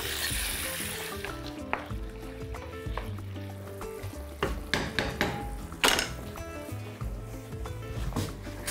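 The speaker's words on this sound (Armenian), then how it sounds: "սիրտը տապակում ենք այնքան, մինչև գույնը փոխի" Chicken hearts fry in a pan with a busy crackling sizzle, punctuated by clinks and knocks of a utensil against the pan, close and moderately loud with no talk.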